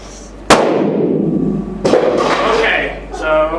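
Sound grenade detonating nearby during a tactical headset test, one sharp loud bang followed by a second burst and rumbling noise, with voices talking after it.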